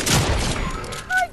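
A quick burst of video-game gunfire during a battle-lab match, a loud clustered volley of shots lasting well under a second, followed by fainter game sounds.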